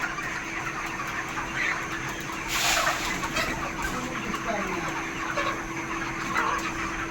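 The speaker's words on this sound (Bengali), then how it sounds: "দেখতে হচ্ছে সুন্দর মুরগি, খাবার দিচ্ছে মুরগিকে।" Chickens on a small poultry farm cluck steadily while being fed, a continuous close murmur of hens with a brief louder rustle partway through and no talking.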